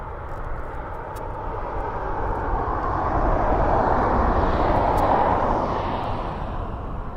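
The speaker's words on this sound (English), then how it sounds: "I think there's a Ryanair actually taxiing down" A Ryanair airliner taxiing at an airport, its jet engines giving a loud, steady roar that swells slightly in the middle and holds throughout, with no talking.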